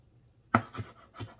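A knife chopping a pile of fresh cilantro on a cutting board for pico de gallo, three quick close thuds, the first loudest, then two softer strikes.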